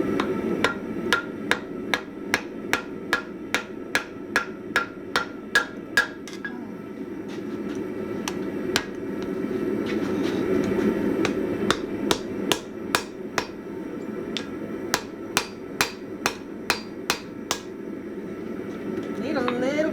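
A hammer rings on hot steel while a three-part bearded axe is forged, a steady run of sharp metallic blows, some in quick pairs, over a constant roar of the forge, close and loud.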